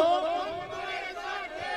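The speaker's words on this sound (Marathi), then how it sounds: "आता एक जयघोष करूया, धीरज भैया तुम आगे बढ़ो" A large crowd at a political rally in Latur chants a slogan in unison, a loud sustained swell of many voices lasting under two seconds.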